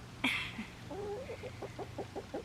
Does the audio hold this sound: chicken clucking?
yes